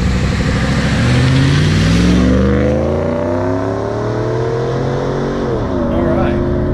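The V8 engine of a 1993 Mercedes 500E revs loudly up close, its deep, grumbling tone rising and then settling back in pitch as the throttle is worked.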